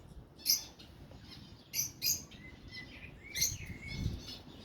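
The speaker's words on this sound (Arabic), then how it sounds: "هذا الشحرور دا يغرد، أصواته كلهم كلش حلوة" A common blackbird sings in a garden where animals and birds are kept, its clear, fluty phrases coming in short bursts at moderate distance over a low background rumble, with no voices.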